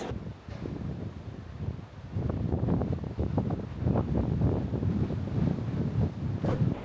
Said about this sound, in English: We're out on the deck and it's blowy.